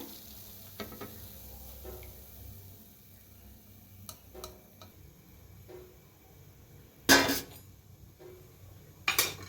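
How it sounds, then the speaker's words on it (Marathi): Banana Mangalore buns fry in hot oil with a soft, steady sizzle, interrupted by a few sharp clinks of a utensil against the pan, with no talk. "दोन्ही साईडने छान असं तळून घेऊया"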